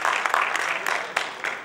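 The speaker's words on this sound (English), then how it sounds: "a big applaud please" Audience applause at a conference felicitation program in Ajmer, Rajasthan: steady close clapping from a hall crowd filling the short stretch, with a few sharper claps standing out.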